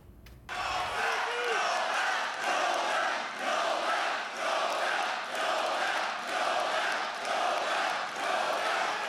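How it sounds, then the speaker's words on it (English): A large outdoor crowd at a Trump rally in Washington Township chanting for a Nobel Peace Prize, a loud, sustained roar of many voices pulsing in a steady repeated rhythm for several seconds after a brief quiet start. "the crowd when they began to chant when he was talking about his achievements"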